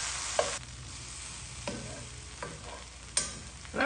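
Shrimp fry in a pan over medium heat, giving a low steady sizzle punctuated by a few sharp scraping and stirring clatters spaced a second or so apart, close by and free of speech.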